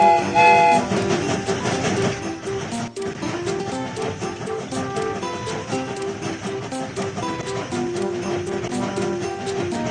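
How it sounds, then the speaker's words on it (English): A cartoon train gets under way with a chugging, clattering rhythm and bright whistle-like tones layered over jaunty music, carrying on steadily and fairly loud. "The train is about to start."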